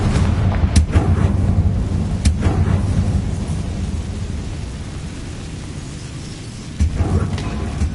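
Blasts from the Confringo blasting curse in Hogwarts Legacy come as several muffled, booming thumps over a deep, steady rumble, with another heavy burst near the end.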